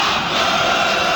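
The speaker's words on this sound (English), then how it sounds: "Yeah, we got a cheering section." A large arena crowd of French fans at a CS:GO match roars in a steady, dense wash of cheering, loud and unbroken for a brief moment.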